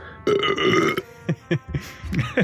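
A long, loud belch rumbles out, followed by a few short exhales and small mouth noises, close up with no talking.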